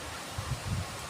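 Leaves rustle in gusting wind, a soft hiss with a few low buffeting swells, brief and fairly quiet.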